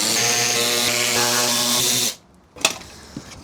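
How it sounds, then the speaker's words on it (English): A power tool spins out fasteners during a service on a Mercedes G500 with the M113 V8, buzzing steadily and close for about two seconds before cutting off, followed by a couple of small clanks. "Find your favourite power tool and spin them out properly."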